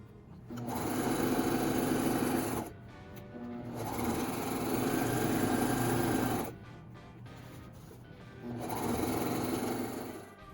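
A sewing machine stitches around the sleeve of a wizard robe in three long bursts of rapid, even whirring, with short quiet pauses between them.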